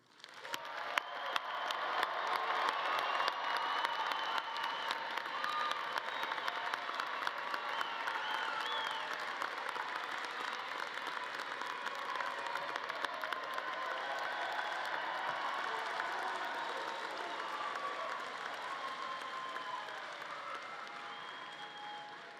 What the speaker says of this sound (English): let's collectively acknowledge them again with a round of applause